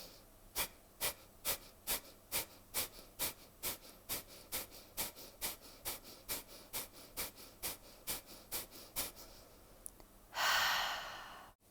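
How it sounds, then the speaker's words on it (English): Deep rhythmic yoga breathing, about twenty quick, even nasal breaths close to the mic, followed by a long, loud exhale at the end. "So deep inhale."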